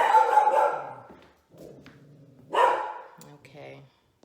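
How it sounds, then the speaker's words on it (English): A dog barks loudly close by, a sharp burst at the start and another after a short pause, with quieter yips and whimpering noises in between. "I had to take a dog break, which you might still be able to hear."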